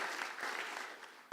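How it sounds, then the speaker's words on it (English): An audience at a devotional festival gathering gives a brief round of applause, a soft, distant wash of clapping lasting just over a second. "So big round of applause for Sudevi Mataji."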